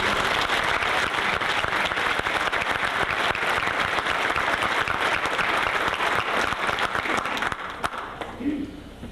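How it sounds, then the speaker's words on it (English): An audience at a school speech contest gives the student champions a sustained round of loud, dense applause that fades out near the end. "So let's give them a round of applause"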